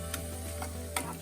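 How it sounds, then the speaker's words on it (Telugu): Onions and green chilies frying in a pan for honey chili potato, a steady close sizzle with a few brief scraping stirs of a spoon. "సో ఇవన్నీ కొంచెం ఫ్రై చేయాలి, కొంచెం వేగాలన్నమాట."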